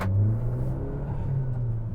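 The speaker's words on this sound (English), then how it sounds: "It has the best sounding exhaust of any cheap car" A car's engine and exhaust rumble steadily at low pitch, a deep continuous drone with no speech.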